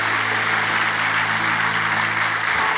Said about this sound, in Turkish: Seyirci alkış.